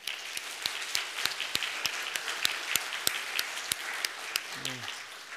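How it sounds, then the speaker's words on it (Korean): A church congregation at a Sunday worship service claps for a visiting pastor, with sharp, regular rhythmic claps over a softer bed of scattered applause and a brief murmur of voices near the end. "우리 목사님 한번 큰 박수로"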